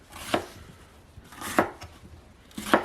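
A knife slices through a whole red pepper on a cutting board, three distinct sharp cuts spaced about a second apart, each a crisp close thunk against the board with quiet gaps between and no talk.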